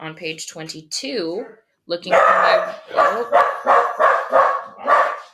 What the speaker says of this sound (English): excuse the dogs, guys, sorry